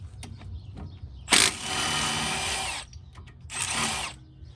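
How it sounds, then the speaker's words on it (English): A stubby impact wrench with a 14 mm socket hammers brake caliper bolts off a Kia Soul: two loud, close rattling bursts, the first longer, separated by a pause with faint clicks and handling noise. "let's go ahead and use our stubby impact here. It's gonna take a 14 millimeter to hammer those off."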